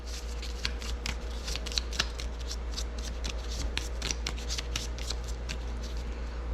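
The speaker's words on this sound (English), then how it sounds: "Now we shuffle our decks." Rapid, crisp riffling of board game card decks being shuffled close up, repeated bursts of flicking with no talking.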